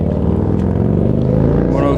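A Harley-Davidson Softail Slim with a 103 motor idles steadily on its factory exhaust, a loud, continuous low rumble close by with an even throb throughout.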